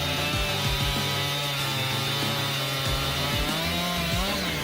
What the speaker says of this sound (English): chainsaw is a formidable tool for handling large timber